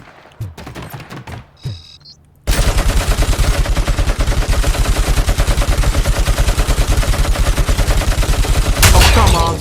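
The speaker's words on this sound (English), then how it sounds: "Something is shooting." Dense, rapid automatic gunfire in Robocop Rogue City, loud and close, runs almost nonstop after a brief quieter stretch of scattered shots and clatter, with a heavier burst near the end.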